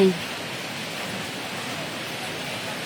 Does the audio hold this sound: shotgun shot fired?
no